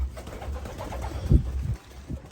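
Young racing homer pigeons coo softly in a loft, low throaty murmurs that rise and fall close by, with a few louder rustles mixed in.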